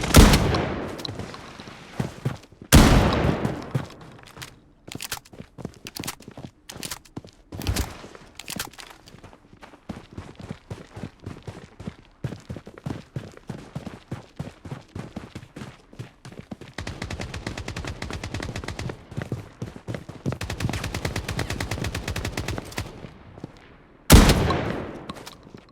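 Gunfire from the shooter game Blood Strike crackles in loud single shots and rapid automatic bursts, mixed with running footsteps and a sustained stretch of fire near the end.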